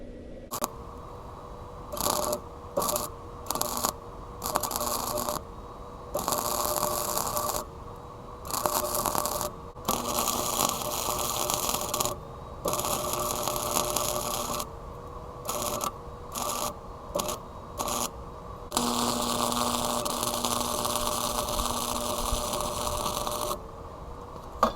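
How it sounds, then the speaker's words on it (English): Welding tacks on a homemade exhaust tip, loud close bursts of harsh crackling separated by brief silent gaps, continuing in an irregular rhythm throughout. "we're going to lay a few tacks and then we'll weld it in"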